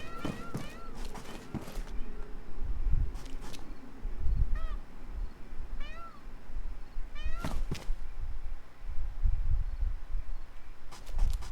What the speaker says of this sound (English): Do you hear that? That meow, meow, meow noise?